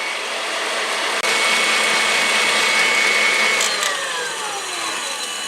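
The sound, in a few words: electric mixer whisking egg whites to stiff peaks on high speed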